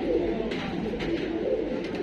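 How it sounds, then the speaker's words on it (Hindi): Low, throaty cooing rolls on continuously from many pigeons at once in a loft, a dense murmuring chorus close by with a few faint clicks. "तो ये देखिए सारे ही कबूतर इस लॉफ्ट में भी हैं"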